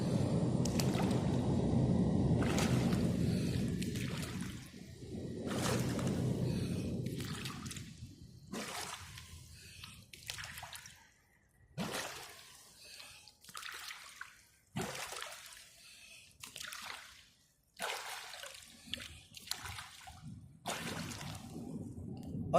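A swimmer blows bubbles underwater while learning to swim, giving repeated bursts of bubbling and splashing in an irregular rhythm, close and fairly loud, with quieter gaps between.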